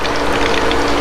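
A Hayward pool pump priming churns out a dense, steady watery roar with gurgling, loud and close throughout a very short moment.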